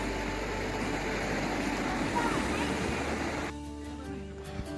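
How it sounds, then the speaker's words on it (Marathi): The Bhima river flows beside a forest trekking trail, a continuous close wash of water that drops away sharply near the end, leaving quieter sounds. "ही शेजारी वाहणारी भीमा नदी"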